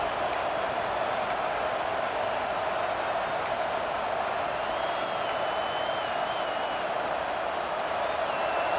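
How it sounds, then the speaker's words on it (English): Stadium crowd noise in a college football video game, a steady, loud, broadband roar from a packed stadium that holds level throughout, with faint whistle-like tones drifting above it. "This crowd bringing the energy and noise early."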